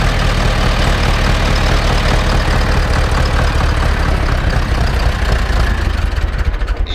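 A cold Ursus C-360 tractor engine idles steadily with a low, rumbling chug, loud and close throughout, easing slightly at the very end.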